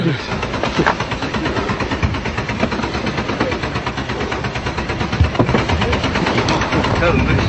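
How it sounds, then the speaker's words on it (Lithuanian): After a road crash involving a truck trailer, a vehicle engine keeps running with a rough, steady idle and faint rhythmic knocking, close by, while people talk over it. "Reikia variklį išjungti, nes gali užsidegti"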